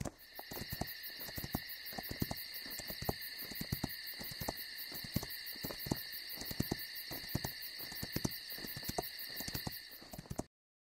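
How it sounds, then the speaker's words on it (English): An owl hoots in a night scene of the Miss Clue video game, a faint, steady rhythmic pattern over a constant high insect-like drone, with no talking. "Aren't you the owl that Janie helped this evening?"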